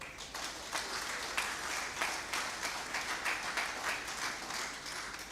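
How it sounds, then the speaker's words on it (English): Diners at an awards dinner clap together, a steady, fairly quiet patter of many hands with a few sharper claps standing out, heard from some distance. "Can you clap for them?"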